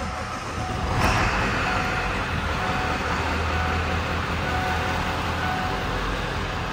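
A Ford F-350 crew cab long bed pickup with a 5-speed manual transmission and an exhaust brake, running with a loud, steady rumbling exhaust drone after a brief sharp onset, heard close with no talking.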